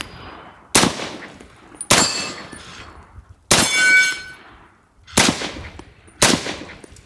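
A suppressed .45-70 lever-action rifle fires five spaced shots, each a sharp, loud crack with a bright metallic ring off a steel target, followed by a short decaying echo before the next shot.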